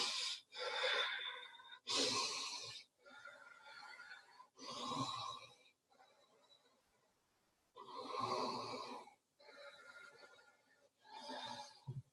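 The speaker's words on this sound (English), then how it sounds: "We take 10 deep breaths." Deep breaths taken during a morning gratitude routine, a slow series of loud, close inhales and exhales separated by short pauses, with no other sound.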